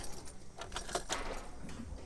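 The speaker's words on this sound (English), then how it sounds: "Keys in." Keys jangling as they go into the ignition of a 2016 Chevrolet Silverado 1500 with a no-start, no-crank fault, a brief, close metallic rattle of a few clinks, quiet and alone.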